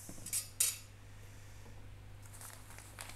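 Food (corn fritters, fried chicken and vegetable soup) is served onto a plate, with two sharp, close clinks of utensil on dish early on, then near silence.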